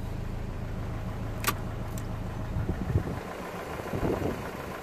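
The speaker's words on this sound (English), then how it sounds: "As you can see, the engine is running," A Renault Modus 1.5 dCi diesel engine with a fault idles steadily, a low, faint rumbling hum that runs throughout, joined later by a few soft knocks and handling noises nearby.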